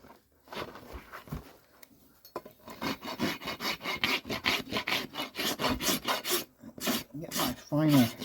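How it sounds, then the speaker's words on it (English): A farrier's rasp files a horse's hoof during shoeing, rapid rhythmic rasping strokes close and loud after a few quieter scrapes at the start. "then I'm going to take my rasp."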